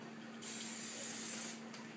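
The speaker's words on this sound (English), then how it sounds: "you want to hairspray all the wispies back" Hairspray hisses from an aerosol can onto a person's hair as it is set back for a production hairstyle, one steady burst of about a second, close and fairly loud, followed by a short second puff.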